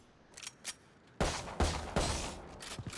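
Valorant shotgun blasts ring out as three sharp loud reports spaced about half a second apart, with fainter clicks and handling sounds before and after.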